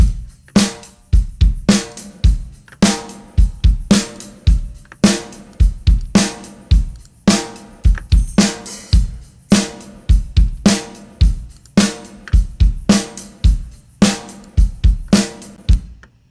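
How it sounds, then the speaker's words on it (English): A produced drum track from a rock song plays with saturated, EQ-filtered reverb on the kit, steady punchy hits in a regular groove, loud and alone with no voices. "So I also have drum reverb."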